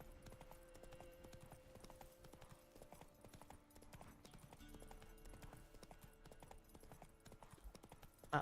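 Roach, Geralt's horse in The Witcher 3, gallops in a steady drumming hoofbeat under soft game music, fairly quiet throughout, with a louder thump at the very end.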